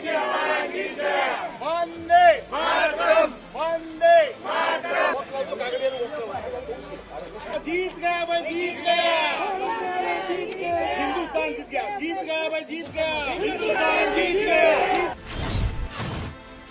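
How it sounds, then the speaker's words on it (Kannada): Indian cricket fans celebrate India's win over Pakistan with loud crowd chanting and shouted patriotic slogans, rising in rhythmic waves with a sharp crash near the end. "ಜೈಕಾರ ಹಾಕುವ ಮೂಲಕ ಸಂಭ್ರಮಿಸಿದ್ರು"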